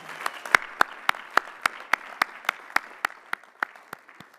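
Slow, evenly spaced claps ring out through a graduate commencement hall as the audience congratulates Educational Specialist and Master's degree recipients, the sharp distinct hits spreading across a room where the applause seems sparse and deliberate.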